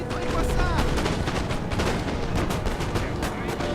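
Musket volleys in Napoleon Total War crackle in a dense, continuous rattle of overlapping shots and sharp cracks, steady and loud throughout with battlefield din beneath.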